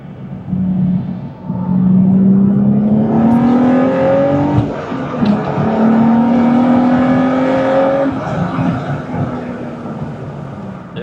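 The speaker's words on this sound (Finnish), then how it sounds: "Ja äänet autossa on kyllä aika mahtavat. Mä en tiedä minkä takia porukka vihaa näitä VQ-ääniä" A 2003 Nissan Skyline 350GT with its VQ V6 engine pulls hard while driving, a loud rising engine drone through the gears with a brief drop at a shift, heard from inside the car.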